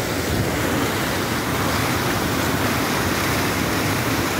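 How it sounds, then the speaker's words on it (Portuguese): Strong water rushing out of the Tucunduba reservoir near Senador Sá, a loud, steady broadband roar of flowing and falling water with no pauses, heard up close and alone. "Essa água vai escorrendo"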